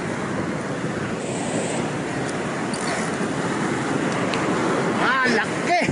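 Ocean waves wash steadily around a fishing boat off Australia, a loud continuous surf roar with wind buffeting the microphone throughout.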